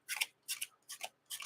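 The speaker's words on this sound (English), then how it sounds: "So we'll go ahead and shuffle Ultron's set here." Marvel Champions game cards being shuffled for the Ultron set, four quick crisp riffling bursts in an even rhythm, close and fairly quiet, with no talking.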